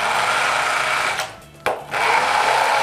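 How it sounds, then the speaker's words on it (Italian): An immersion blender purées mushroom cream made with champignon mushrooms, a steady loud motor whir that briefly drops and dips in pitch partway through before running on again, with no talk. "Adesso col frullatore ad immersione o se preferite con un frullatore comune"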